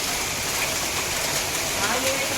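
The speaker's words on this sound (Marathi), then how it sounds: "बघा दोस्तांनो पाऊस कसा चालू आहे खूप पाऊस चालू आहे" Steady, dense rainfall hisses without a break, a constant wash of noise with no clear pauses or distinct drops.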